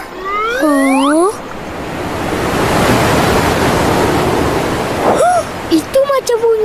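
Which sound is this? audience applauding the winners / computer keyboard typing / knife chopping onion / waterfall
waterfall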